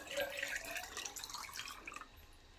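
Aquarium tank water poured into a container: a faint, short trickle and splash of falling water that slowly tapers off.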